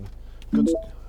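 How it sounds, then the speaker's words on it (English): A short electronic chime of a few rising tones as a 2012 MINI Countryman Cooper SD's Bluetooth connects a phone, clear and close, over a low hum of engine or cabin noise. "That noise was it just picking my phone up"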